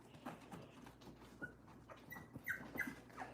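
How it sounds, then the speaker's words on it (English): A litter of puppies whimpers and yips as they scramble toward their mother, soft high cries and scuffling paws close by at low volume. "It's like a stampede of puppies."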